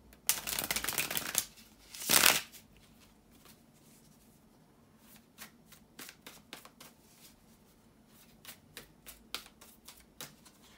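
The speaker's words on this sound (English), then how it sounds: "to shuffle the tarot cards" Tarot cards riffle-shuffle in two loud bursts, followed by a run of quieter, scattered card taps and flicks, close up with no talking.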